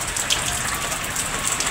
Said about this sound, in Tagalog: Grabe po ang ulan mga lods.